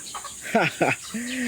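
Chickens clucking near, a few short calls in quick succession over quiet outdoor background.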